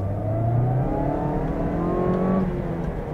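A Mazda 2 pulls away from a standstill, its engine note rising steadily and smoothly through the revs without harshness, close and continuous with no talk over it.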